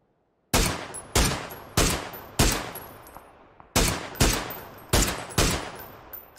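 Rapid gunfire from the battle royale game PUBG, about nine sharp, loud shots in irregular succession, each with a short decaying tail, and no talk over them.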